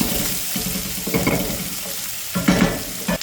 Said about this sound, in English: Get them frying up in plenty of oil.